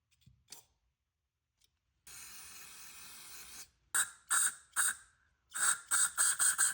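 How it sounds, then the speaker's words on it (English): A steady aerosol hiss of carburetor cleaner sprays for about two seconds into a disassembled Bolens QT17 carburetor, followed by a series of short, sharp spray bursts in quick succession, close up. "So I'll just spray everything down with some carb cleaner"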